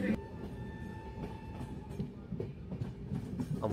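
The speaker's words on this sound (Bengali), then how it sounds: "আমাদের ট্রেন প্রবেশ করছে বিহার রাজ্যের পারসই জংশনে।" The Kanchan Kanya Express passenger train runs along its route in Bihar, approaching a junction. A faint, continuous rumble with soft rhythmic clatter is heard from inside the coach, with some steady tonal hum.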